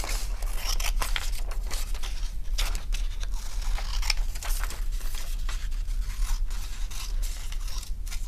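Scissors snipping through paper to cut out paper fraction models, a steady run of close crisp cuts and rustling paper with no talk.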